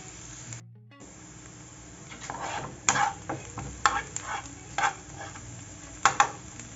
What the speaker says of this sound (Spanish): Esto lo vamos a dejar sofreír durante unos minutos.